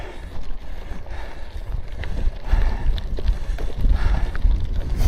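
Strong gusting wind buffets the microphone during an off-road and gravel cycling ride in Lincolnshire, a loud continuous low rumble that rises and falls in steady waves with no talking.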